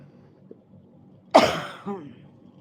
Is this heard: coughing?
yes